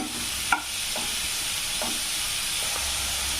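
Finely chopped carrot, cabbage and capsicum sautéing in a pan on high flame, a steady close sizzle and hiss with a few sharp clicks of a stirring spoon, no talk.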